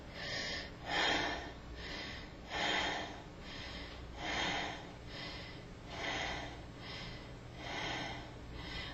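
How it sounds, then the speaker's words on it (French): A person demonstrates a slow breathing rhythm, taking audible breaths about every one and a half to two seconds, close and clear, with no talking. "Je vais vous en faire des respirations."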